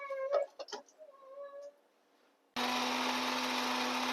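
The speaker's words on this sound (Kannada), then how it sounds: "ಈಗ ಹಾಕೋತಿದ್ದೀನಿ ಖಾರ ರುಬ್ಬಕ್ಕೆ." Mixer grinder grinding fried spice masala for chicken biryani, starting abruptly midway as a loud, steady whirring roar that holds without a break, after a stretch of faint kitchen clatter.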